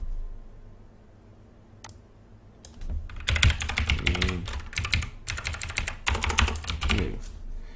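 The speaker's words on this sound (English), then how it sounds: "Feel free to skip some of this boring typing." Rapid keystrokes clatter on a computer keyboard, starting after a quiet moment and continuing in steady close bursts with short pauses.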